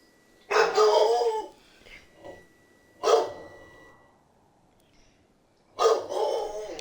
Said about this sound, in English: my dog's kind of going off